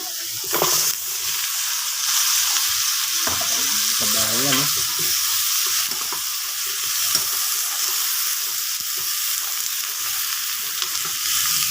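Vegetables for ginisang pakbet sizzle loudly in a hot pan, a steady close-up frying hiss with occasional stirring scrapes and a brief voice in the background.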